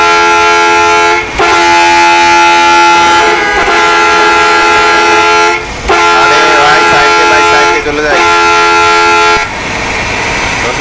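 A bus horn in the Bangladeshi driving game Map of Bangladesh V6 blares in long, loud, sustained tonal blasts, four in a row separated by brief gaps, with engine sound in the final stretch.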